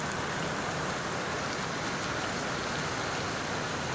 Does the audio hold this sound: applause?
no